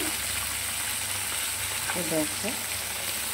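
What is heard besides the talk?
fish frying in oil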